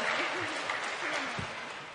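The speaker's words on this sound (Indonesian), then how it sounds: "Saya mohon penonton berikan tepuk tangan yang meriah" An audience at a Quran quiz competition in Aceh claps in a loose, fairly faint round of applause with a voice briefly audible over it.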